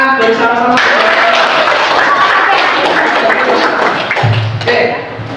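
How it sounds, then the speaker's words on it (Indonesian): A classroom of students claps together after presentations, a steady broadband wash of applause that fills the room from start to finish, with faint talk and a brief low thump near the end. "Mari kita tepuk tangan bersama-sama."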